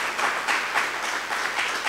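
Worshippers at a church gathering break into sustained, thick applause for Jesus, many hands clapping at once in a steady, loud roar without speech.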